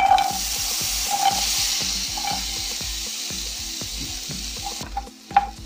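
Apple pieces fry in a hot pan over low-to-medium flame, a steady close sizzle broken by repeated scraping strokes of a stirring spoon, with a few sharper clinks near the end.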